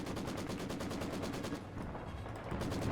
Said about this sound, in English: We got an MG opening fire.